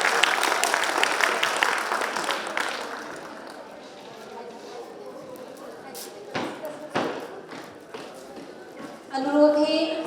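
Children clap for themselves at a National Youth Day gathering during Maha Kumbh 2025 in Prayagraj. Loud, dense clapping at the start thins to a few scattered claps before a voice comes in at the end.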